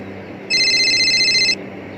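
A high electronic telephone ring sounds for about a second over a low background hum, then stops.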